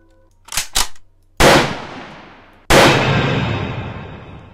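Gunshots aimed at a key in the Clown House horror video game: two quick sharp cracks, then two loud booming shots, each followed by a long decaying echo, with no voices.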